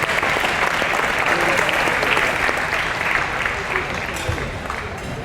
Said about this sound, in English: A round of applause for our family of the Hall of Famers who are in attendance.